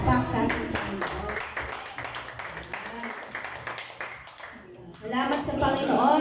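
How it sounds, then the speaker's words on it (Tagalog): Congregation clapping at a church praise and worship service, a loose burst of hands that fades after a few seconds before voices and louder activity return near the end. "Isang malakas na palakpak sa ating Panginoon"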